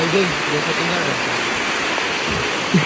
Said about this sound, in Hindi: हाँ इधर भी एक वाटरफॉल है